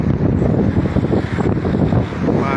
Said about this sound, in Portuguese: o vento está muito forte, então mais de 23 km por hora